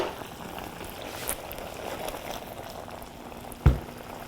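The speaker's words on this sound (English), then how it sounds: "See, it's still boiling because of the clay pan." Sri Lankan chicken curry bubbles and simmers quietly in a clay pan, with soft continuous popping and one sharper knock near the end.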